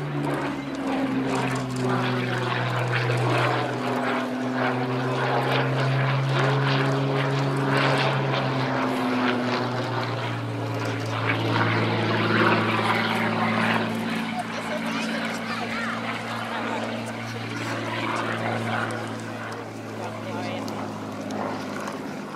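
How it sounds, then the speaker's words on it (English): A 1930s fighter aircraft with a propeller engine flies overhead at an air display, giving a steady droning engine hum with a shifting pitch. A commentator talks over it throughout. "Stu Goldstein flying the aircraft for us today."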